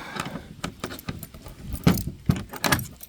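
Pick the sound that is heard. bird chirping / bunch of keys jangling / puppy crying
bunch of keys jangling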